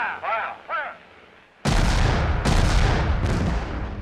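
Artillery guns fire in a WWII documentary with a series of heavy, loud booms rolling in succession after a brief shouted command, the blasts continuing densely to the end.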